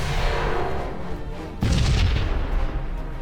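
Flak ordnance fired at an enemy ship in the Sunrider space-combat game: a sudden loud, heavy blast about halfway through cuts into a steady rumbling background and leaves a dense, booming roar.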